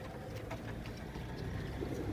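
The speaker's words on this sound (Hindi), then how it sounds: "ये बिग साइज के कलदुमे कबूतर हैं।" Soft, low cooing of large Kal Duma and Neel Duma pigeons mixed into a steady murmur of background noise, with faint bird calls near and continuous throughout.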